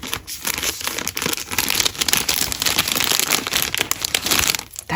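A crafting package with die-cut paper pieces being opened, giving continuous close crinkling and rustling of paper with short tearing-like bursts, loud and alone.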